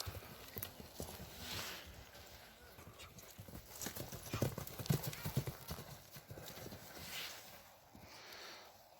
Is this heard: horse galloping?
yes